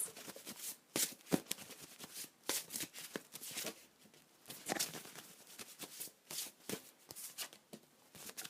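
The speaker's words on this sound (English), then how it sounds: "let me just draw another card" Tarot cards being shuffled in a steady run of crisp, papery riffles and flicks, fairly quiet and close, with no voices over it.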